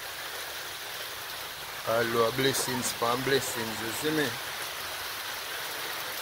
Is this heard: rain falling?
yes